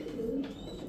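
A pigeon gives a single soft, low coo, close by and brief over a quiet background.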